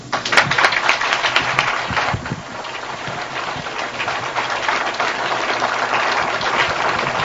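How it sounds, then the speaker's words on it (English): Sustained audience applause for Dr. Ivan Van Sertima at the end of his evening lecture, a broad continuous wash of clapping throughout, loud and steady without any break. "Come on, let's give him another warm round of applause."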